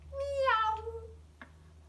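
A cat gives a single clear drawn-out meow, close and moderately loud, followed by a brief soft click over low background hum.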